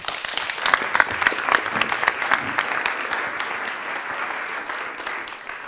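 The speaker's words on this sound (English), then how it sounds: "Please a warm applause for Erik Bunger and Florian Wüst." Audience applause at the opening of the IMPAKT Festival 2022, welcoming the two festival curators; a steady wash of many hands clapping that swells briefly and then settles, thinning toward the end.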